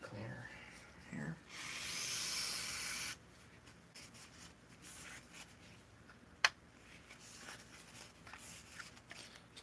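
Brake cleaner sprays from an aerosol can onto engine parts in a home workshop, a short hissing burst of about a second, close and bright, followed by quiet handling noises and a sharp click.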